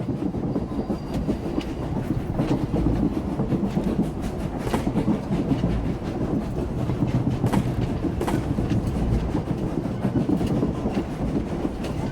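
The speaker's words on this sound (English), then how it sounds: "The train is on the move, and the traitor's on board." A moving train in Star Wars: The Old Republic makes a continuous loud rumble with rhythmic rail clatter and occasional sharp clanks. It fills the whole stretch with no talking.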